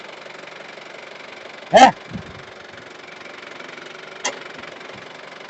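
Yanmar YM 348 A tractor engine idling with a steady, even hum throughout, broken by one short spoken word and a brief sharp sound.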